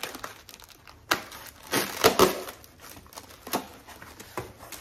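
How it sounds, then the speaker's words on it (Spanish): Plastic packaging from an online order is handled and cut open with scissors at close range, giving irregular bursts of crinkling and rustling with short pauses between them and no talk. "Deja agarro las tijeras para poder abrirlo."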